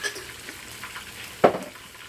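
Chicken and broccoli stir-frying in a pan, with a steady low sizzle and a brief louder hiss as stir-fry sauce hits the hot surface.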